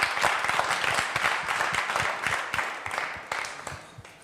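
A studio audience at a gospel music show applauds with dense, steady clapping that swells slightly and carries on without pause, close and moderately loud.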